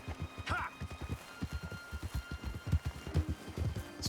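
Horse hooves clip-clopping at a steady walking rhythm while riding in Red Dead Redemption 2, close and distinct, with faint ambient background and a brief higher call near the start.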